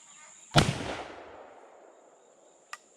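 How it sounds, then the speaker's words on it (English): A .45-90 rifle fires once, a sharp loud blast that rolls off into a long fading echo outdoors, followed by a faint small click near the end. "Now we're gonna shoot it and see where, hopefully that thing will stop inside there."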